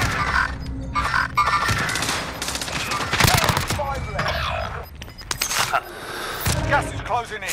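Battle royale game combat with repeated bursts of gunfire, near and loud, overlapping with players calling out to each other.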